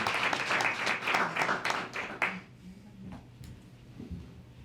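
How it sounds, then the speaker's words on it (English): Audience applause at a city council meeting, a dense burst of clapping in the room for the first couple of seconds, then thinning out to a few scattered claps and quiet room noise. "let's give them a round of applause for being here"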